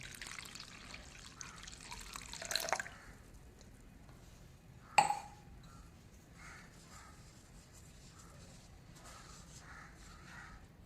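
Water is poured into a glass with coffee powder and stirred. A faint, short trickling pour is followed by a sharp clink and soft liquid swishing, all quiet in a still room.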